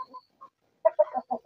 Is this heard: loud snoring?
no